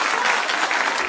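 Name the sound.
audience applause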